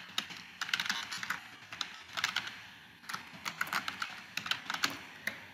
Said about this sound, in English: we will type in the title